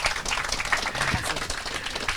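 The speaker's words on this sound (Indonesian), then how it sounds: "kami minta tepuk tangannya untuk memulai acara kita pada pagi hari ini" Audience applause aboard a navy ship, Indonesian Navy (TNI Angkatan Laut) morning event: steady, dense clapping of a crowd throughout, fairly even and moderately loud, with some voices mixed in.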